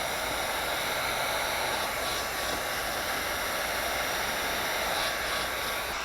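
Heat gun warming window tint film on the frameless door window of a 2016 Ford Mustang, a steady close blowing hiss with a constant whine, continuous and even throughout.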